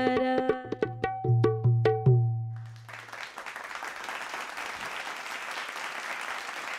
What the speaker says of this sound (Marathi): अमृता पार्क या ग्रुपसाठी जोरदार टाळ्या